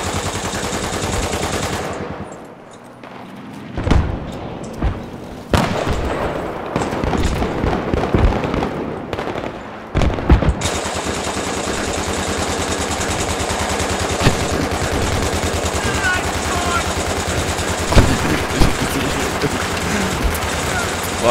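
Rapid bursts of automatic gunfire crack and rattle during a Battlefield 3 multiplayer battle, dense and loud at first, then continuing in steady bursts amid game noise and players' talk.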